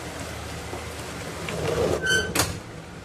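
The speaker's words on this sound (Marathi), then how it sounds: "पाऊस बाहेर खूप जोरात आहे" Heavy rain pours steadily outside, heard from indoors as a dense, even hiss with a brief louder swell near the end.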